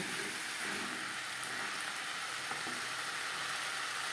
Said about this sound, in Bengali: পেঁয়াজের সাথে আলু আরও তিন চার মিনিট রান্না করব